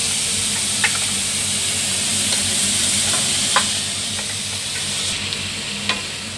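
Chicken wings for adobo sizzle steadily in a hot pan, a constant hiss of frying with a few scraping stirs and light clinks over it.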